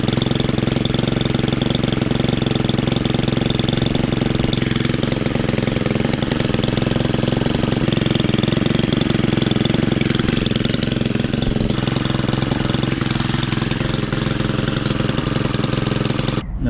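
A petrol long-reach hedge trimmer engine runs continuously at a steady, loud, buzzing idle with a rattly, knocking edge throughout, its exhaust facing rearward.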